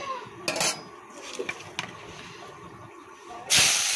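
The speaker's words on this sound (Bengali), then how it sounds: "তো বসিয়ে দিচ্ছি উচ্ছে আলু ভাজা।" Bitter gourd and potato dropped into hot oil in a pan, a sharp burst of hiss and sizzle after scattered clinks of utensils, close and loud with no talking.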